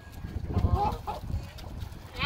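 Chickens cluck and squawk close by in short, overlapping bursts, with a louder rising call at the end.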